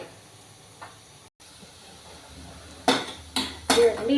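Potatoes frying in a pan are stirred, giving a quiet hiss that is broken near the end by three loud bursts of scraping and sizzling.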